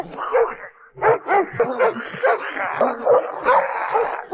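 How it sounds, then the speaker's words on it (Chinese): A guard dog in the film Chinese Zodiac barks and yips in a series of sharp, loud bursts, mixed with whimpers, while a voice talks over it. "恶狗穷追不舍"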